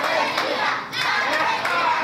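A wrestling arena crowd chants Argentina in a loud, sustained roar, the rhythmic shouting rising and falling in pulses throughout.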